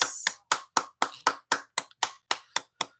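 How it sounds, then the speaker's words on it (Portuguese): Hands clap in a steady, even rhythm, about a dozen sharp claps close by, as a small group gathered in a family home for a religious meeting applauds in time together. "as nossas palmas"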